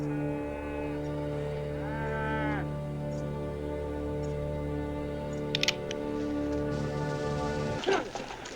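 Cattle low in a dusty Western film scene set in 1968's Hang 'em High, with long steady moos and a drawn-out bellow continuing under a low hum, joined briefly by faint clinks near the end.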